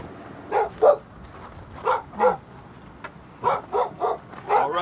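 A dog barks in a border town during a sheriff's call, sending out several sharp barks in uneven pairs and short bursts, fairly close and loud, with quieter gaps between them.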